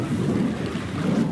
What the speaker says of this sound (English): Then let's fire up the engines.